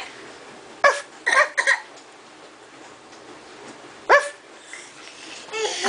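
A young child imitates a dog barking with a few short, voiced woofs: a single bark, a quick cluster of three, then another lone bark after a pause, over a quiet indoor background.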